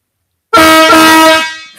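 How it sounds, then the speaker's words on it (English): A loud train horn mounted on a Harley motorcycle blasts once after a moment of silence, holding a harsh chord for about a second before fading. "We got the train horn for this thing."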